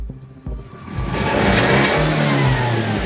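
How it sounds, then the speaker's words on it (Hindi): A car engine cranks and catches after an engine detox cleaning, then is held at high revs, a loud sustained roar that swells and stays strong to the end. "उसके बाद थोड़ा हाई इसको रैप करेंगे"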